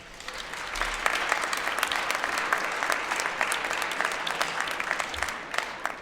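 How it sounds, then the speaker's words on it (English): An audience at a homecoming crowning event applauds steadily, a dense even patter of many clapping hands heard from a slight distance, holding at a moderate level from start to finish. "Please join me in applauding all their efforts"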